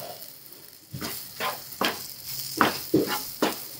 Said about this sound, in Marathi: आता हे दही आपल्याला मिरचीमध्ये टाकायचं.